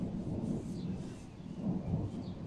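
Low, continuous rolling rumble of thunder from a storm outside during indoor knitting, a steady dull roar heard from some distance with no voices.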